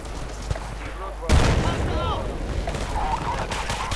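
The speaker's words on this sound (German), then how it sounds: "Und natürlich noch voll eine Granate rein." A grenade goes off in Battlefield Bad Company 2 with a sudden loud blast just past one second, followed by rumbling battle noise and scattered shots; someone talks over it.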